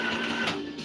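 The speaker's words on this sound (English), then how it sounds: "the little Janome sewing machine is chugging right along" Small Janome sewing machine stitching in a home workshop, a steady close mechanical hum with a faint rhythmic chatter, running alone.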